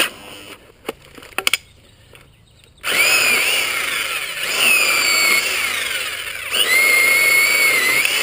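A Black & Decker Alligator electric chainsaw starts with a few clicks, then whines loudly and close as it chews through small branches, its pitch rising and dipping with each cut.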